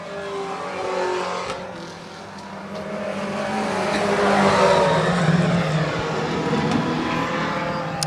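4-cylinder pro stock race cars roar around a short track during a race, engines rising and falling as they pass, with a loud swell midway and a constant engine drone throughout.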